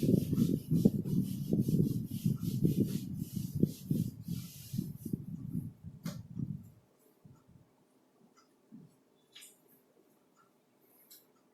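Writing rubbed off a classroom board with rapid, rhythmic scrubbing strokes for about seven seconds, then near silence with faint small bumps.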